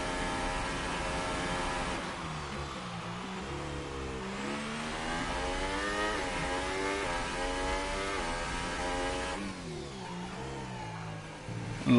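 Loud F1 race car engine in a video game, revving hard with rising and falling gear-change sweeps as the car pushes through a last lap on the Azerbaijan Grand Prix circuit, steady and close throughout.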